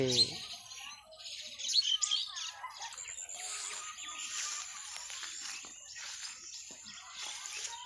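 Small birds chirping outdoors in short, high tweets near the start, then fading into faint rustling, with a quiet voice in the background.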